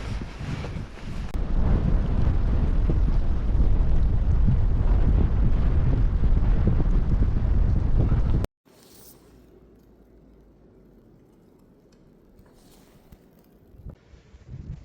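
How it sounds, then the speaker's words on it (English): Strong wind roars and buffets a microphone during a heavy snowstorm, loud and constant, then cuts abruptly to a quieter, muffled gusting background. "The wind is whipping bad out here"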